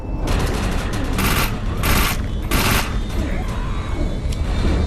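Machine gun fire in the video game Defiance comes in several loud, rapid bursts separated by short pauses, sitting up front over background game noise.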